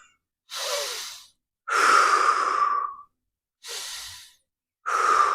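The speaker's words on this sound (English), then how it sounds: "And then normal breathing pattern." A person doing a neck stretch exercise breathes slowly and close up, with four long, even, airy breaths separated by short silences.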